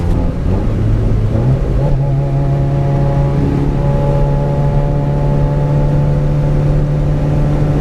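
Turbocharged Honda Civic with 254,000 km and a sluggish engine, accelerating with a loud, steady drone whose pitch climbs and then holds, heard close for about eight seconds with no talking.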